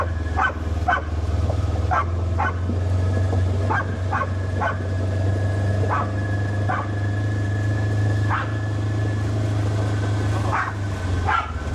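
A dog barks repeatedly outdoors in irregular bursts of single and double barks, moderately near, over a steady low engine hum, with no talk.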